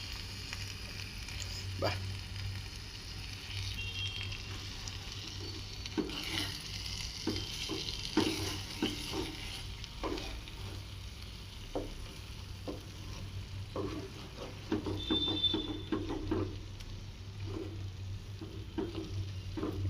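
A tomato and egg mixture sizzles softly in a frying pan while it is stirred, with scattered spatula scrapes and taps against the pan over a low, steady frying hiss. A brief voice sounds once.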